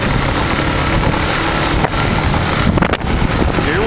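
A motorcycle rides along a Caribbean coastal road, heard as a loud, constant roar of wind buffeting the microphone that masks any engine sound, with a couple of brief dips.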